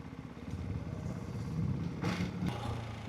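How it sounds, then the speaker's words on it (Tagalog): A Ducati motorcycle engine runs steadily and close by during a test ride, with a low, vibrating rumble throughout and two brief rises in revs near the end. "Ma-vibrate yung makina."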